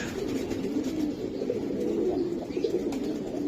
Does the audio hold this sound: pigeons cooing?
yes